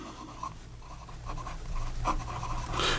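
A medium 18 karat gold nib on a Wancher Dream fountain pen, writing in brown ink, gives close, soft scratchy strokes that come in short bursts and build slightly toward the end, with no talking.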